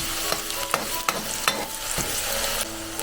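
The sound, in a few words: onion sautéing in oil in a pan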